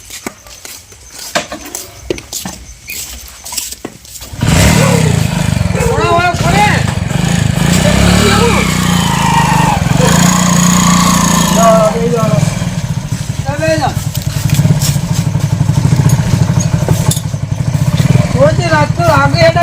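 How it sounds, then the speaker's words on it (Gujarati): A motorcycle engine starts up and runs steadily as the bike is ridden out onto a road, a continuous close rumble with people talking loudly over it throughout. "લે બાઈક લઈને રોડ પર આવો."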